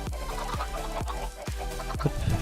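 Chickens cluck on a video game farm with over 200 birds, a dense run of short rhythmic clucks close by and fairly loud, with no talk.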